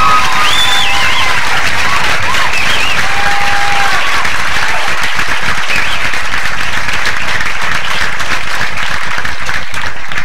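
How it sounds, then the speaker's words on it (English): A live comedy-club audience gives comedian Dave Coulier a loud, sustained round of applause, dense clapping with cheers and whistles rising through it, filling the room without a break. "Let's have a nice big round of applause."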